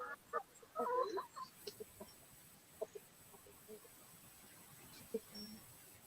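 Farm birds, chickens, give a few quiet clucks and short calls at a distance, scattered over a faint outdoor background.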